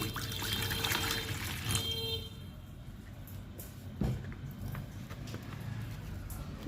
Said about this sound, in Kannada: ಮೊದಲಿಗೆ ನಾನು ನೀರು ಹಾಕೋತಾ ಇದ್ದೀನಿ ಸ್ವಲ್ಪ